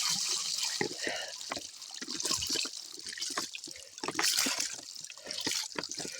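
Spring water running out of a drained dam, a steady splashing trickle with irregular gurgles and drips, moderately close and fairly quiet throughout.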